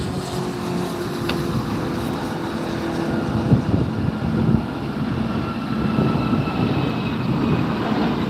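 An aircraft departing Los Angeles Airport (LAX) gives off a loud, sustained engine roar that stays steady and swells slightly toward the end, with faint metallic clicks in the mix.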